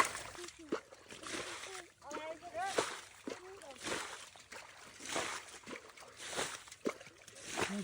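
Water splashes in repeated bursts as it is bailed out of a shallow village channel to catch fish, the sloshes coming every second or so while people talk nearby.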